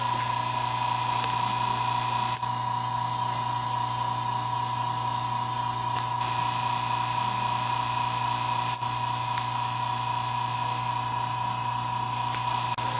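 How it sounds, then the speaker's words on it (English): A vacuum pump for a 2.75-quart vacuum chamber kit runs alone at a steady volume, giving a continuous mechanical hum with a constant whine and no breaks. "One other really great feature about this pump is its noise."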